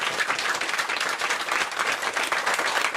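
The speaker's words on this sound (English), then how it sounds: "Just give them a round of applause." A TV studio audience applauds on a magazine show, a thick, even roar of many hands clapping at once, loud and sustained throughout.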